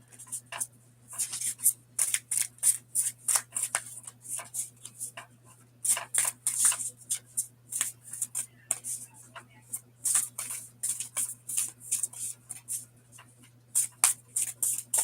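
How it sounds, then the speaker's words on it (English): Oracle cards are shuffled by hand in quick crisp riffling bursts that repeat steadily over a low constant hum, close and clear, with no talking. "We're just gonna keep shuffling until we get a card."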